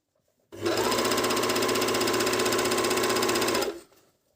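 A MEDION MD10685 overlock sewing machine stitches gabardine fabric in one loud, close burst lasting about three seconds, a fast, even mechanical whir that starts abruptly and stops cleanly.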